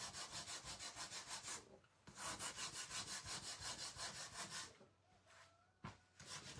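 A handheld imitation gator sander scrubs across a wooden cutting board riser in steady, rapid back-and-forth strokes. The close, loud rasping stops briefly twice, then resumes with no talk.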